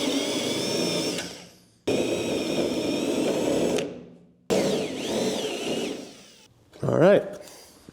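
Power drill boring out spot welds on a Nissan S14 car body, several sustained whirring bursts with pauses in between, loud and close, with a high squealing bite near the end.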